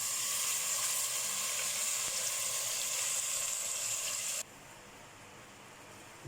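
Cheesy cream sauce sizzling loudly in a pan as boiled pasta goes in, a dense hiss that drops abruptly to a quieter simmer near the end, with no talk.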